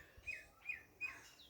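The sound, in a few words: birds chirping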